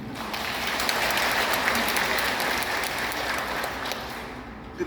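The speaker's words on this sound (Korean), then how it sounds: "저 박수 좀 한번 부탁드리겠습니다." A room full of people applauds, a dense steady clatter of clapping that holds for several seconds before tapering off.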